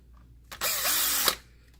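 A power screwdriver or drill whirs briefly and up close, one short burst under a second long, while a screw is removed from an Optoma TWR1693 DLP video projector.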